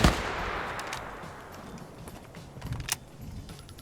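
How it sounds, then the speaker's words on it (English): AK-47 rifle fire in a military video game match, with a sharp opening crack followed by scattered distant shots and a louder burst near the end, heard over faint background ambience. "Opens up with a standard AK. That actually might be an AK-47."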